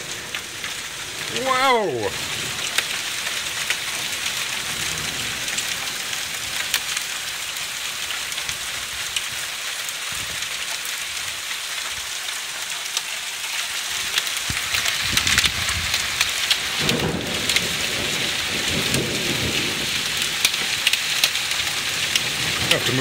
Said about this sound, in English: Well, actually getting hailstones here, look at that.